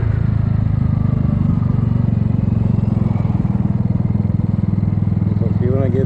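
A Kymco People 250 scooter engine idles close by with a steady, loud, pulsing putter, its exhaust leaks plugged with high-heat JB Weld; someone talks over it.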